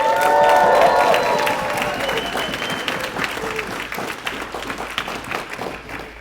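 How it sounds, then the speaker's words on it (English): A live audience at a speaking event breaks into loud, sustained applause with scattered cheers, the clapping dense and close at first and then tapering slightly. "Y'all make some noise for your managers."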